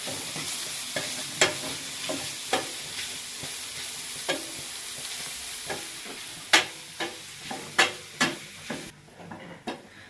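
Shrimp sizzle steadily in a hot pan for a Moroccan rice and shrimp salad, with a utensil stirring and scraping in irregular sharp clicks over the constant frying hiss. No one speaks.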